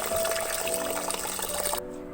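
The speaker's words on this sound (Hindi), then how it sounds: "पहले मैंने ये 2 कप चावल लिए, इनको हम भिगो देते हैं पानी से अच्छी तरह से धो के।" Water pouring and splashing over two cups of basmati rice being washed in a bowl for chana pulao, a steady close trickling wash that cuts off abruptly near the end.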